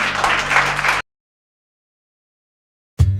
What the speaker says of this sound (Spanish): Todos los que oraron conmigo, denle un aplauso al Señor en esta mañana.